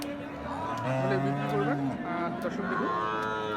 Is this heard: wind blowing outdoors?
no